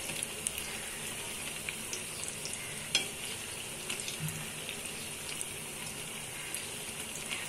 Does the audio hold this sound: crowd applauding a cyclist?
no